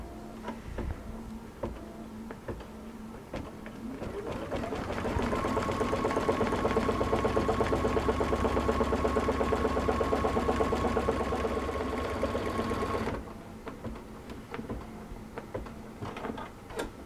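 A Luminaire sewing machine stitches slipper feet over stabilizer. After a few soft clicks, the motor spins up into a loud, steady rapid whir for about eight seconds, then stops, leaving light ticks and handling noises.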